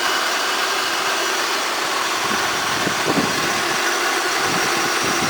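Supercharged 3800 Series 2 V6 engine idling in a 1998 Oldsmobile LSS fitted with an aftermarket air intake, a steady close hum with a faint hiss, even and unchanging throughout.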